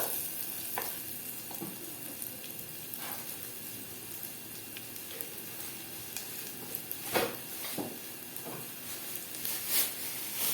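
Onion and rice sautéing in ghee in a pan, a low continuous sizzle broken by a few sharp scrapes and taps of a spoon stirring, close by and without speech.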